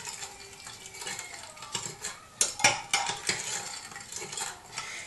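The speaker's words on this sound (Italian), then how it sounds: "Mescolate bene in modo tale che lo zucchero raggiunga tutte le fragole." A utensil stirs strawberries with sugar and water in a bowl, giving soft wet churning with several sharper clinks and scrapes against the bowl, close up and without talk.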